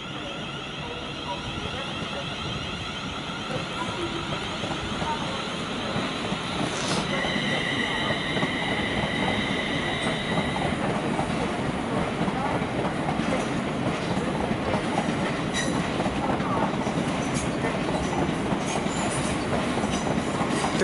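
London Northwestern train 35261, bound for Birmingham New Street, pulls out of a station with a continuous rolling rumble. Brief high wheel squeals rise partway through, and the sound stays close and steady throughout.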